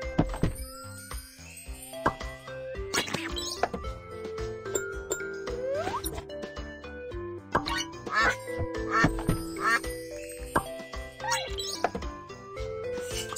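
Cartoon duck quacks in a children's animal doctor game as the duck's head sits stuck inside a tin can, repeated short quacks mixed with jingly game music, plops and thunks, under a narrator's voice.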